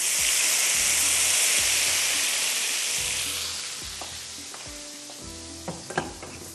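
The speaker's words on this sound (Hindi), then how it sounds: "ये देखें, लहसुन का, कड़ी पत्ते का और ज़ीरे का लग जाएगा इसके ऊपर तड़का।" Tempering of garlic, curry leaves and cumin poured over kadhi, giving a loud, close, bright sizzle that slowly fades over several seconds while faint spoon clinks and small pops sound near the end, with no talking.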